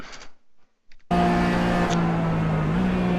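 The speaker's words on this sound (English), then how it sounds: "I think he might have been a little too aggressive with the downshifting, because you could hear he's pretty much hitting the limiter when he downshifts" A RUF race car in iRacing at Daytona roars in a steady, loud in-cockpit engine drone after a brief quiet moment, bouncing off the rev limiter as it downshifts hard.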